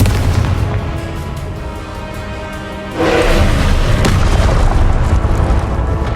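A Confringo explosion spell goes off in the video game Hogwarts Legacy: loud, booming blasts with a heavy rumbling tail, and a second, stronger burst hitting about halfway through. No voices.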